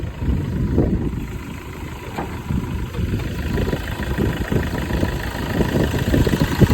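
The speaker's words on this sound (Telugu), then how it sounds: "ఇంజిన్ ఎంత స్మూత్గా ఆడుతుందో మీకే చూస్తారు ఒకసారి." A 2012 Hyundai Verna Fluidic S6 sedan idling with the bonnet open, a low steady engine rumble with small irregular pulses, close and alone without talk.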